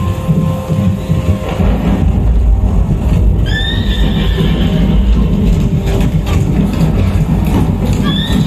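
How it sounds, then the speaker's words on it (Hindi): At a light-and-sound show in Bagh-e-Bahu, Jammu, a staged horse representing the Ashvamedha sacrifice steed gives a loud, shrill whinny midway, then a second brief neigh near the end, over a dense, rumbling dramatic soundtrack. "ये कोई साधारण अश्व नहीं है, ये अश्वमेध यज्ञ का घोड़ा है जिसे पांडवों ने छोड़ा है।"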